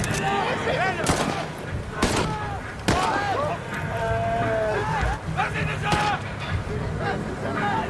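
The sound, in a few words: gunfire sound effect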